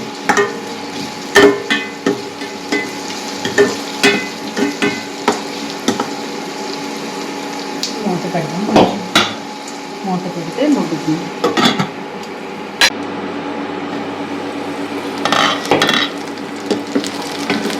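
Curry leaves and tamarind frying in a pan for a spicy ivy gourd and onion dish, with scraping stirs and scattered clinks of a utensil over a low, steady sizzle, close and fairly soft, with a voice speaking now and then.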